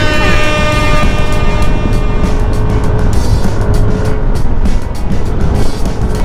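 Motorcycle exhaust pipes on a group ride heading toward Infanta, a loud continuous engine drone with wind rush that stays steady and close throughout.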